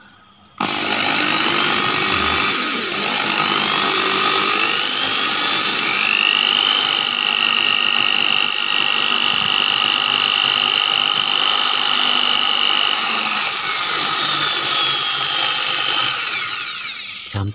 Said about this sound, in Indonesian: jadi pakai amplas yang halus saja itu seperti ini baru bornya diputar